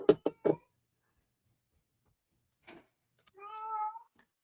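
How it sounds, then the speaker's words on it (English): A house cat crying indoors during a live stream: a few short sounds at the start, then a long silence and one drawn-out, tonal meow near the end, close and clear. "everyone's going to have to listen to my cat crying on the live stream again"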